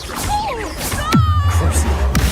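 A Confringo blasting curse in Hogwarts Legacy is cast with a sharp burst, followed by a low rumbling hum and a second crack near the end.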